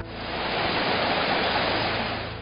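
Rio Seco Waterfall in a mountain forest park, a dense, steady rush of falling water that swells slightly and stays loud and close the whole time, alone without voices.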